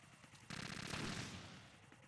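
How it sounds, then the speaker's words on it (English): An AK rifle in Metal Gear Solid 2 fires a sustained burst of loud, rapid automatic shots at two Cyphers, the gunfire starting abruptly and rattling on before tailing off. "They're going to shoot 2 ciphers out with their AK"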